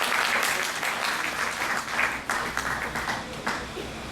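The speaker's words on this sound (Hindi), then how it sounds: "जोरदार ताली।" Loud, sustained applause from an audience at a public gathering in India, dense clapping with a few swells in intensity and faint background voices.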